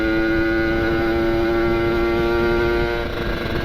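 A two-stroke motorcycle engine drones steadily and loudly while riding, a sustained buzzing hum that stays close throughout with a slight dip near the end.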